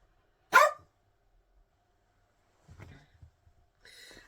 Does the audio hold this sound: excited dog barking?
yes